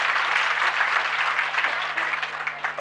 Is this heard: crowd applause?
yes